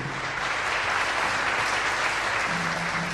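Audience applause rings out for a contestant at a French-language spelling championship, a steady dense wash of clapping that fills the whole stretch without pause.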